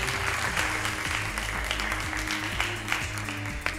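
Steady applause from a television quiz show studio audience, dense and sustained clapping at moderate volume with no break, a faint rhythmic music bed underneath.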